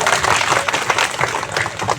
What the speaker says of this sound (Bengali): তাহলে বেশি একটা তালি দাও ওদের জন্য, সবাই তালি দাও